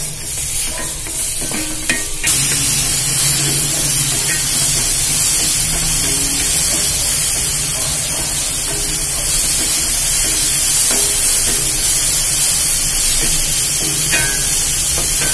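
Soup ingredients sautéing in a hot pan for a kidney stone soup, a loud steady sizzle and hiss throughout with occasional stirring scrapes, close up and without talk.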